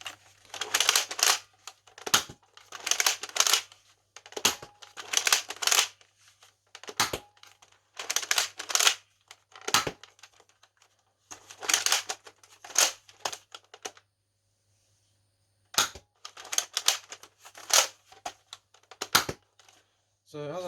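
Repeated sharp pops from an X-Shot Lock Blaster toy firing foam darts, loud and close in quick bursts separated by short pauses, with a voice speaking between shots.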